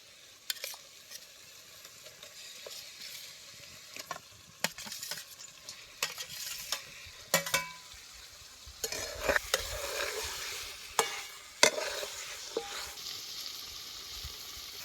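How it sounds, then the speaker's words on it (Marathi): Chicken tossed into onion masala and stir-fried, with repeated sharp spatula scrapes against the pan over a low sizzle that grows busier and louder as stirring continues. "आता सौदा तेलात चांगला भाजलाय आता याच्यात चिकन घालतो"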